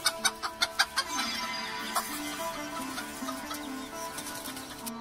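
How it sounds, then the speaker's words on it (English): A hen clucks in a quick series of short, sharp notes, then softer murmured clucking continues over a busy background of other sounds. "A hen lays eggs."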